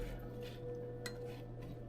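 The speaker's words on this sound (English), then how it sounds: "I'm going to get that all mixed around and stirred up." Food is stirred and mixed in a pan, with faint metallic scrapes and a light clink against cookware over a low steady hum, quiet and brief.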